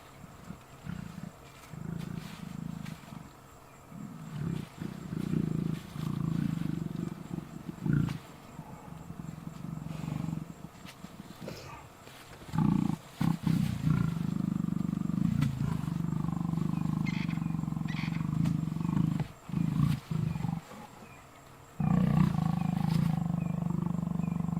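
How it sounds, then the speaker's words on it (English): Low rumbling growls from a lioness on a South African safari at Djuma, with long sustained throaty rumbles broken by brief pauses, close and fairly steady with no voices over them. "those rumblings you are hearing are from her, not from him."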